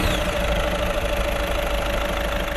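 A Skoda Superb's 77 kW 1.6-litre diesel engine runs with a steady, even droning hum and a faint knocking texture, constant in level throughout with no talking.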